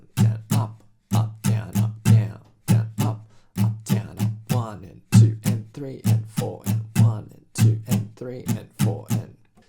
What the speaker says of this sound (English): It's an 8th note strumming pattern that goes down,